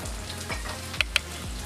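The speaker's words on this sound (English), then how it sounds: "I'm going to add my onions and my garlic." Onions and garlic frying in oil in a skillet for a sweet potato stir fry, sizzling steadily and close by, with a couple of quick sharp clicks partway through and no speech.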